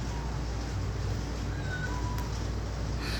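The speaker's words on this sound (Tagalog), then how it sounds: "Meow, meow, meow." A mother cat that has just given birth under a date tree meows faintly and briefly over a steady background hiss.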